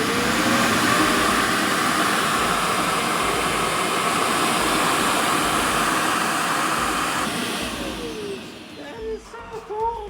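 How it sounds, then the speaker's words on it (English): A robot vacuum's self-emptying dock discharges collected dust straight into a dustbin, giving a loud, steady whooshing roar for several seconds before it cuts off and fades to quieter clicks and rustling. "it'll connect to the dustbin and discharge all the dust directly into the dustbin"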